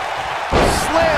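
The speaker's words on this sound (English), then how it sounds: "Slammed with authority." A heavy body slam onto the mat in the WCW 2K19 wrestling game, one sudden loud thud followed by a short ringing tail.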